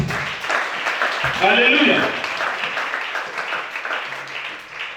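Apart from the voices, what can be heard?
congregation applauding in church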